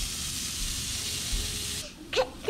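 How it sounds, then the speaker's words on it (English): Steak seasoned with salt and pepper hitting a hot pan seasoned side down, a steady broadband hiss of sizzling that runs throughout, with a few brief louder bursts near the end. "Put the steak on the pan, season side down."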